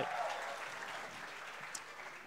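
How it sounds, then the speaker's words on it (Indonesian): A stand-up comedy crowd gives the comedian Chandra another round of applause: a brief, soft patter of clapping that sounds somewhat distant and quiet. "Tepuk tangan sekali lagi untuk Chandra Chansai"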